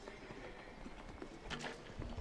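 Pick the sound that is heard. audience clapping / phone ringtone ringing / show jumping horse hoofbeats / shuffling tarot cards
show jumping horse hoofbeats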